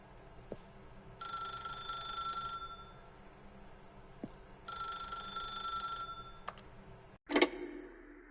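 In the video game The Stanley Parable, a telephone rings with two long bell bursts separated by a pause, clear and close, then a sharp click as the receiver lifts; no speech.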